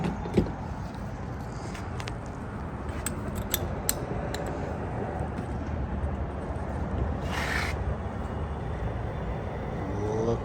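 Fuel flows from a gas station pump nozzle into a Jeep that earlier would not take fuel, a steady rushing, gurgling drone with a few faint clicks and a brief higher hiss partway through.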